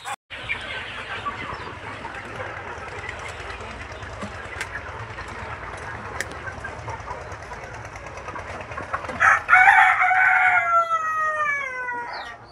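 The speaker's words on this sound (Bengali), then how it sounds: "অল্প কিছু মুরগি খাবার খাচ্ছে, বাদ বাকি মুরগি কোনো খাবার টাবার খাচ্ছে না, শুধু জল খাচ্ছে" A flock of young chickens, just over a month old, cluck softly around their feed and water amid a steady background hum, with a louder burst of clucking and squawks near the end.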